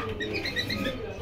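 Pankhi fantail pigeons at a pigeon market give soft, close cooing calls over low market bustle, lasting just over a second.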